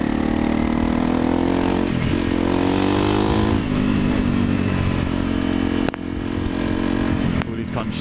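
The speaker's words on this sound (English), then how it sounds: "Accelerate quite well. For a 250 off-road bike, on off-road, dual sport, I believe they call them." A Honda CRF250L 250 dual sport motorcycle accelerates, its engine loud and near with rising revs through several gear changes, heard under a rider's talk and steady wind rush.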